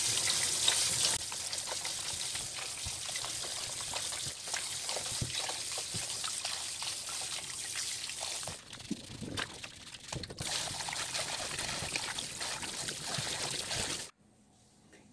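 Radish greens washed by hand under a running tap, a steady trickle and splash of water with soft rustling of leaves, close and continuous before cutting off abruptly near the end.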